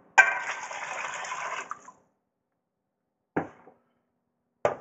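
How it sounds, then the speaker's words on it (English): Water poured from a container into a pot of sauteed vegetables for albondigas soup, a close splashing pour of about two seconds followed by two brief clinks. "it's time to add our water."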